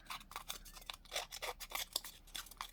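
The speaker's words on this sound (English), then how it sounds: "let's pull out the scissors and get to scruffing" Scissors snip repeatedly through dried straw craft material, a quick irregular run of close, crisp cuts with nothing else heard.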